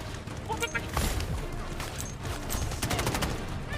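Gunfire crackles almost nonstop in the mobile shooter Delta Force Mobile, dense rapid shots and bursts layered over one another, with voices talking throughout.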